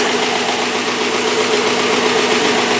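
Dodge Challenger Shaker engine idling after a rebuild of a wrecked car, a loud, close, steady rumble that stays even throughout with no voices.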